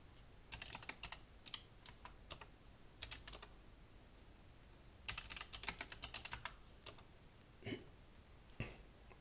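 Computer keyboard keys are tapped in quick bursts of clicks with short pauses between them, close and fairly quiet in an otherwise still room.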